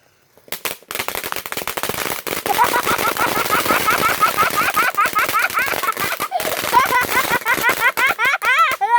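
Fireworks go off in rapid, dense crackling bursts, like firecrackers or machine-gun fire, loud and continuous for most of the clip, with whistling and crackling layered on top.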